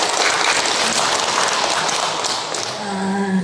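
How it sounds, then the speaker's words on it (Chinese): Warm applause from an audience at a members' assembly hall, a dense continuous patter of clapping that holds steady throughout, fading slightly near the end as a faint voice emerges underneath. "热烈掌声。"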